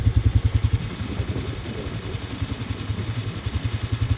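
Bashan 250 shaft-drive quad bike with a manual gearbox and reverse, its engine warming up on choke: a close, steady, pulsing single-cylinder idle with a throbbing beat and a slight rise and fall in pace, no talking.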